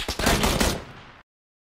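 Gunfire in a video game: a rapid burst of several loud, close shots lasting about a second, ending in abrupt silence, with no talk.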